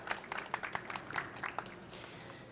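Scattered applause from a conference audience during a panel discussion on farmers and the green transition, a light patter of claps at moderate distance that thins out after a couple of seconds.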